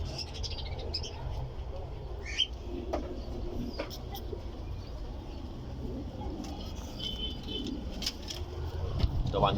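Pigeons kept in a loft or coop coo softly in short, scattered calls over a low background hum. A voice talks faintly at times.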